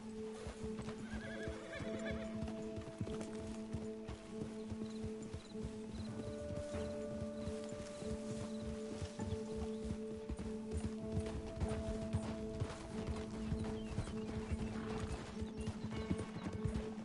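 A horse in the Red Dead Redemption 2 video game, played on PS4 Pro, neighs and whinnies while its hooves clip-clop steadily throughout, with sustained tonal calls over a busy, continuous rhythm of footfalls.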